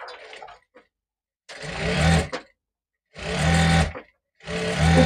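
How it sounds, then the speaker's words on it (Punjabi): Sewing machine stitching a back zip onto a shirt, running in three loud, close bursts of steady whirring stitching separated by short silent pauses. "ਉੱਪਰ ਤੱਕ ਆਪਾਂ ਇਸੇ ਤਰ੍ਹਾਂ ਸਿਲਾਈ ਲਗਾ ਕੇ ਲੈ ਕੇ ਜਾਣੀ ਆ"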